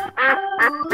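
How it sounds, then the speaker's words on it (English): A duck quacks twice in quick succession, loud and close, with nasal harmonic calls and no other sound around them. "Duck."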